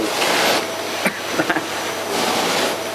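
An AEG Ultraone vacuum cleaner runs at full power on a hard floor with a steady, loud whine, while a few sharp clicks and knocks sound in the middle as the nozzle is handled.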